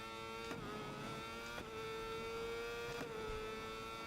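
A motorcycle engine in the racing game SBK 22 holds a steady, buzzing high-revving drone, broken by a few quick shift breaks that come at uneven intervals over about four seconds.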